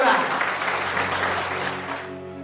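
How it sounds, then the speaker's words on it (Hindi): A seated audience at an Indian health testimonial event gives itself a round of applause. The dense, steady clapping continues for about two seconds and then fades at the end. "अपने आप के लिए एक बार जोरदार तालियां"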